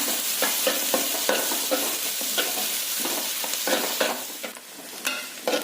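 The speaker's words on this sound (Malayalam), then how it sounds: "സവാള അത് നല്ലോണം നമുക്ക് വാട്ടിയെടുക്കാം" Sliced onions for a crab fry sauté loudly in an oiled pan, with a continuous close sizzle and repeated scraping strokes from stirring throughout.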